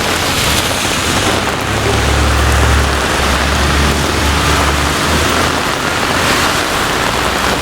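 Heavy rain pours down steadily during a severe thunderstorm in Brooklyn, New York, on 15 August 2012, a loud, dense, close hiss that stays constant throughout with a deep rumbling wash underneath.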